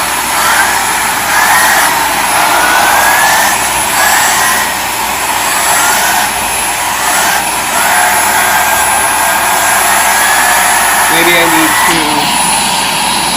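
A Samsung or Dyson vacuum cleaner runs loud and close with a constant whining roar, its brushes slowing down. A person talks over it now and then.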